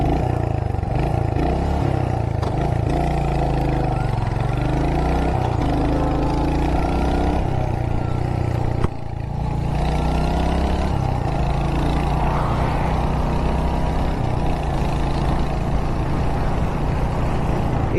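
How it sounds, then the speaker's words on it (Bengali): A 2025 Royal Enfield Hunter 350 motorcycle with a 349 cc single-cylinder engine rumbles steadily and loudly while riding, with a brief dip midway and continuous wind and road noise throughout. "এই বাইকটা শুরু করি রাইড করতে।"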